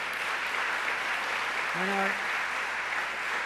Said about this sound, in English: let's give another round of applause to our mayor,